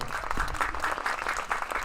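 Congregation applauding at a church thanksgiving service for a Christian school campus relocation, steady dense clapping from a crowd filling the hall at moderate level, with no one speaking.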